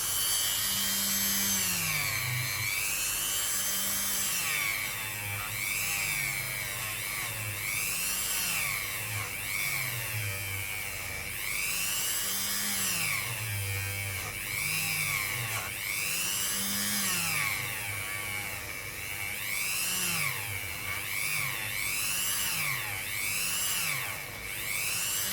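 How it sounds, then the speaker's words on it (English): A Dremel rotary tool works a Spanish 200 Pesetas coin being shaped into a ring, giving a high, whirring whine that rises and falls repeatedly as the tool presses and lifts off the metal, close and steady throughout. "And Dave the Dremel."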